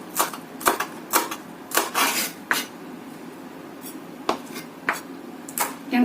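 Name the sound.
knife finely chopping spring onion on board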